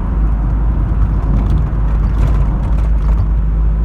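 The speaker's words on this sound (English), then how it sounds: "I'm even going to go into fifth gear." A Rat-Cav car drives fast in fifth gear, its engine giving a steady loud low rumble with road and wind roar from inside the cabin, constant and unbroken.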